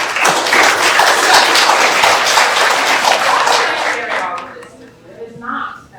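Applause from a university commencement audience, a dense sustained clapping wash that fills most of the moment, then thins and fades toward the end.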